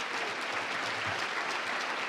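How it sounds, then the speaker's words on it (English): Applause for sponsors at a health conference's opening session: a dense, steady crowd of clapping from a large audience, uniform and unbroken, with no speech over it. "Let's give a round of applause for the presenting level."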